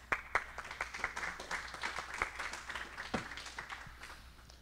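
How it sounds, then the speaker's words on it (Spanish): A small church congregation gives brief, scattered applause, a light patter of hands a little distant that thins out toward the end. "Un aplauso, Jake."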